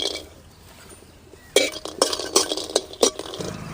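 Vegetables, including pumpkin and dried red chillies, being roasted in a pan and stirred with a utensil. Quiet at first, then a run of sharp scraping clinks against the metal, close and uneven.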